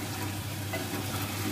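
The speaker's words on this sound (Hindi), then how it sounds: "ये तकरीबन भून गया है" Carrot and meat curry (gajar gosht) fries and sizzles steadily in a pan, with faint stirring, a continuous close hiss with no talking.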